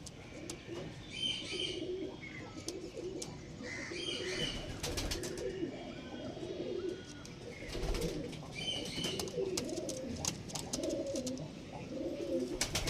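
Pigeons coo repeatedly in soft, low rolling calls, with sharper chirps and faint rustling scattered throughout at moderate distance.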